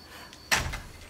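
A door indoors sounds once with a short thump and rattle midway, close and moderately loud against a quiet room.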